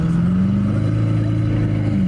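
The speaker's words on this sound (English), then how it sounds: "Twin turbo Aventador." A twin-turbo Lamborghini Aventador engine at a Texas supercar rally runs with a loud, steady, deep drone, close by and alone, with no clear rise in revs.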